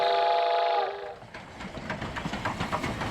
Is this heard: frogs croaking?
no